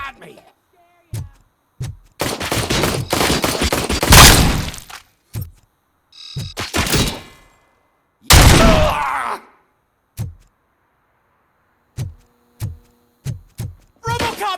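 Gunfire in the Robocop: Rogue City video game, heard as loud sharp bursts and single cracks scattered across the stretch, with gaps of near silence and a few short thuds near the end, mixed with game voices.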